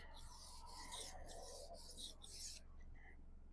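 A knife blade is drawn across a sharpening stone in several rasping back-and-forth strokes, close and steady, then stops abruptly.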